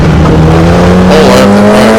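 Formula Junior race car in Automobilista 2 driven with the throttle floored, engine note climbing steadily and loud throughout, a sustained rising drone with no talk over it.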